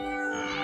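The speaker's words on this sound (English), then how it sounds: "This kitten. And this kitten." A kitten gives one short, clear, high-pitched meow, close and alone, with no talking over it.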